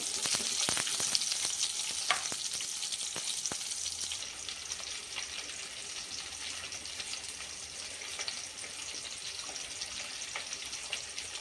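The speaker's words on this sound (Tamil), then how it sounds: "இப்போது வெங்காயம் நல்லா வதங்கட்டும்" Onions and slit green chilli fry steadily in a pan for a cowpea curry, a dense continuous sizzle with a few sharp crackles early on, close and alone without speech.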